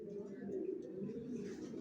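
Racer pigeons, young birds kept for sale, coo in low, steady, overlapping murmurs close by, with someone talking over the birds throughout.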